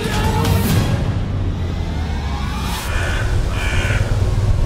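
A crow caws several times at medium distance, its harsh calls coming in short bursts over steady outdoor background noise.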